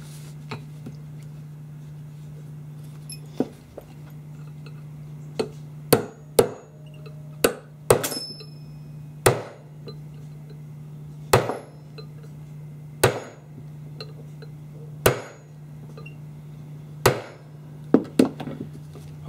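Sharp metallic hammer taps drive taper pins into a front sight block on a new AR-15 barrel, about a dozen irregularly spaced strikes, close and loud, over a steady low hum.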